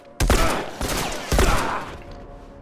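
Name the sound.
gunfire in the video game The Last of Us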